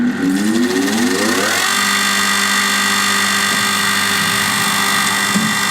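The motor of a saw blade sharpening machine runs steadily, a loud continuous mechanical hum with a rising whine as it spins up in the first seconds, then a constant buzzing drone with no voices.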